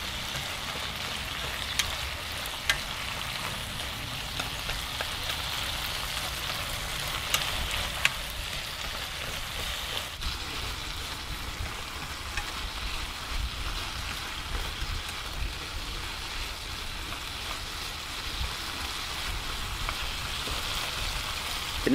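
Okra fries in a pan with a steady, close sizzle and scattered small pops and crackles that continue without pause, with no talk over it.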